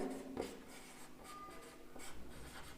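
Soft scratching of a pen writing on paper, a few short strokes close by at low volume with no voice.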